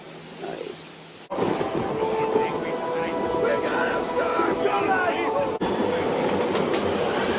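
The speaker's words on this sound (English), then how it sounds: "they're being attacked by the opening storm from Sharknado" A movie storm with thunder and rain: a low rumble, then a sudden loud burst of heavy roaring storm noise that carries on steadily, with voices mixed in.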